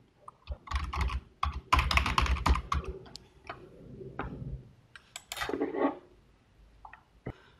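Quick bursts of keystrokes on a computer keyboard as a web address is typed in, close and clear, in uneven clusters with short pauses and no talking.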